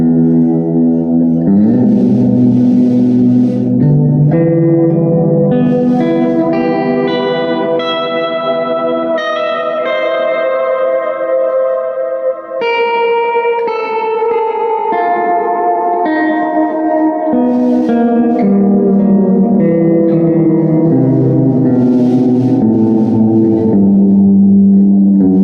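Electric guitar, a pink Squier Sonic Flash, played through a Slava effects pedal, sustained chords and notes washed in heavy echo and reverb with slight distortion, loud and continuous throughout with no talking.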